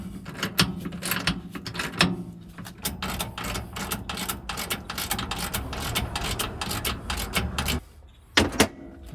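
Bolts on an RV fifth wheel jack being tightened with a ratchet, giving rapid repeated clicking and metallic knocks, close and fairly loud, with a brief pause near the end before a few more clicks.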